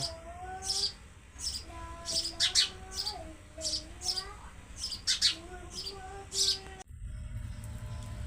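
Sparrows chirp in a Pakistani village, giving repeated bright, high tweets in quick clusters, close and clear, while a person talks softly underneath.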